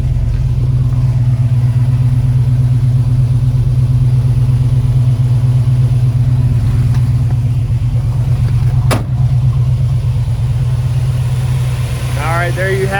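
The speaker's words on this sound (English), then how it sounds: "There's your 327 small block engine, one of the greatest engines ever made." A Chevy Nova SS with a 327 small block V8 idles loud and close in a steady, even rumble for the whole stretch, a single sharp click partway through and a brief rising sound near the end.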